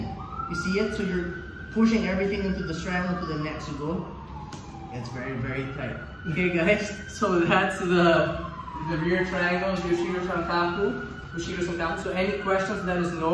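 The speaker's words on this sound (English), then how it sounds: "That's the siren. That means I gotta go." A loud siren wails in repeated rising and falling sweeps that run through the whole stretch, while someone talks steadily over it.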